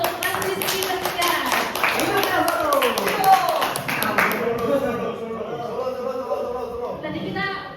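A small audience at a youth anti-bullying and anti-drug outreach event claps in brief scattered applause, with a speaking voice over the clapping that fades out midway.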